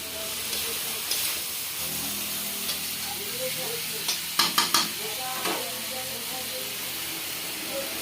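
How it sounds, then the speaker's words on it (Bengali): Shrimp with garden greens and pumpkin-vine leaves, salted, sizzles in a pan as a spoon stirs and scrapes, with a run of quick clatters midway over the steady hiss. "ভালো করে নাড়াচাড়া করবো, তারপরে ঢাকনা দিয়ে দেবো।"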